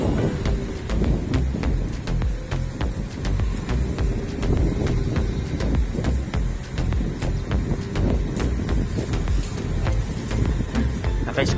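A scooter ride on a cold, foggy morning in Dubai, with steady low wind buffeting and road rumble roaring continuously and fairly loud throughout, plus a faint engine hum underneath.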